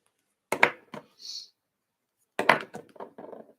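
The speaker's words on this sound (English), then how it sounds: "If you hear the banging, it's me putting the pens back down because I picked the wrong one" Plastic alcohol marker pens are set down on a craft table, clattering and knocking in two quick bursts of sharp, close taps separated by a short quiet gap.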